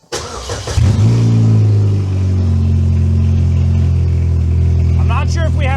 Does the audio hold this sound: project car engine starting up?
yes